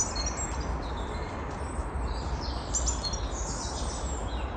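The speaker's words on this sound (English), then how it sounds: "you can hear them making their little calls to each other" Small birds chirp and twitter in high, thin calls over a steady low rumble of wind or outdoor noise, faint and scattered.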